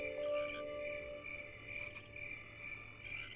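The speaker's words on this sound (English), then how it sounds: "I hear crickets chirping." Crickets chirp at night with a faint, steady high trilling that pulses gently. Soft ambient noise sits underneath.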